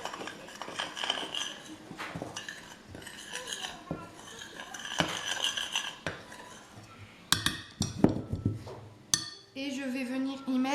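Pizza dough ingredients are mixed in a bowl, with repeated clinks and scrapes of a utensil against the bowl, close and uneven, plus a few sharper knocks and a brief voice near the end.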